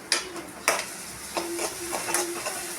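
Fried rice ingredients sautéing in a pan, with a few sharp spatula scrapes and clacks over a low, steady sizzle, the strokes coming in an uneven rhythm.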